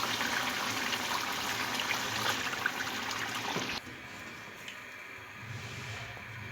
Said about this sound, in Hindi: और इसमें तकरीबन मैं 2 गिलास पानी शामिल करूंगी।